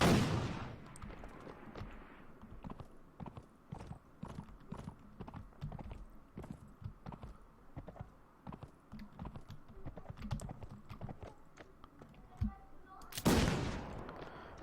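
Gunfire in the video game Mount & Blade: Fire and Sword, fought on horseback against brigands: sharp shots crack repeatedly over steady galloping hoofbeats, moderately quiet throughout.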